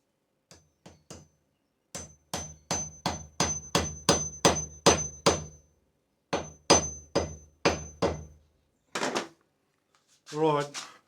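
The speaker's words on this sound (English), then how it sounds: "I'll drive the sideways wedge in while it's still wet" Sharp, ringing hammer blows drive a sideways wedge into a small axe handle, struck in quick steady runs of about a dozen hits with short pauses between; a voice speaks briefly at the end.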